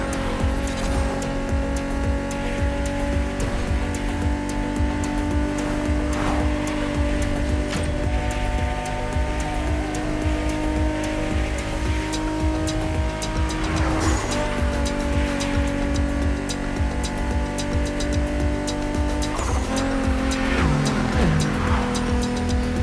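Chrysler 300 SRT8 driving in The Crew Motorfest racing game, its engine droning loud and steady throughout while tires squeal and skid in several bursts.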